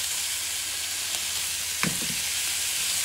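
Homemade ham sizzles in a frying pan, a steady soft crackling hiss throughout with a small spatter pop near the middle, heard alone at close range.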